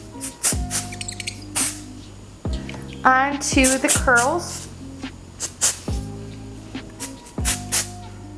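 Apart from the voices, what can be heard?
texture spray being sprayed onto hair curls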